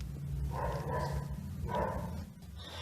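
A dog barks repeatedly in rough bursts while chasing a creature through scrubland beside a rural property, the barks loud and close over a steady low rumble.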